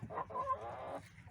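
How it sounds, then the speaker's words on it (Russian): Backyard hens cluck in a short close burst, a couple of quick throaty calls running into a longer drawn-out cluck. "Вот мои пивуньи"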